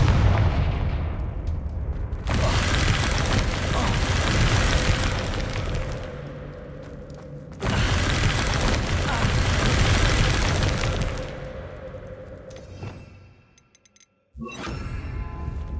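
Repeated Confringo fire-spell blasts in the Hogwarts Legacy video game, loud rumbling explosive bursts that sustain for several seconds each, with a brief drop to near silence before another blast starts.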